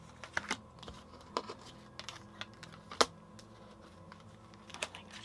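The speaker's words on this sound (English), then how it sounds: "let me keep shuffling because that's just a mess" Tarot cards being shuffled by hand, a soft papery riffle with scattered sharp clicks and taps at an irregular pace, close and fairly quiet over a low room hum.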